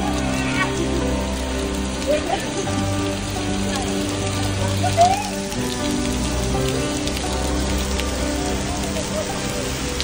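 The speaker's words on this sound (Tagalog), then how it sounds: "Ang tagal umuulan dito" Rain falls steadily in Makati's BGC, a continuous wash of drops over a low humming city background, with no voices.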